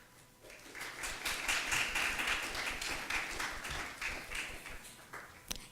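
An audience applauds at an award recognition luncheon, a swell of many hands clapping that rises quickly, holds fairly evenly at a moderate distance, then thins toward the end.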